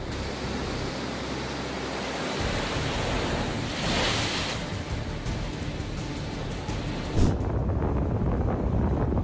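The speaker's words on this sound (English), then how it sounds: "Lake Michigan radiates a mysterious beauty, with gentle ice waves drifting past Chicago, creating a breathtaking scene in the cold breeze." Ice waves wash along the Lake Michigan shore near Chicago in cold wind, a steady broadband roar with gusty wind noise across the microphone, loud and continuous throughout.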